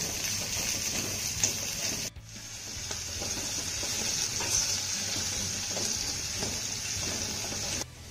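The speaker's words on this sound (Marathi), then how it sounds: "मटार आणि गाजर छान परतून झालं की" Peas and carrots being sautéed in a pan, a steady close sizzle with scraping and stirring throughout and a brief sharp drop partway through.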